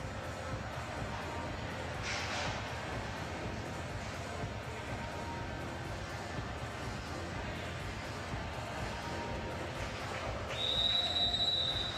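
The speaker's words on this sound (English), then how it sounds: "You'll hear that whistle many times this evening. That's to indicate that there's 1 minute of play left for all the climbers." A single sustained whistle blast signals one minute left in a men's bouldering qualification round at the 2013 IFSC Climbing World Cup in Toronto. It sounds clear and steady near the end, over a low, continuous arena background.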